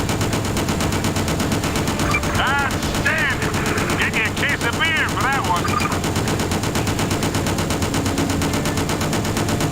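Vehicle-mounted weapon firing continuously in Just Cause, a dense, loud rattle of automatic gunfire with whistling tones over it and a voice talking underneath.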